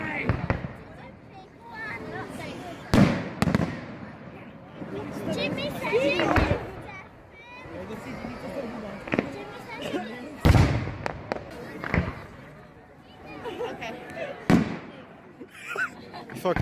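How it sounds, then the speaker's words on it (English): Fireworks set off in the woods: several sharp, loud bangs and crackles spaced a few seconds apart, with people talking and moving around close by between the blasts. "These are some fun fireworks."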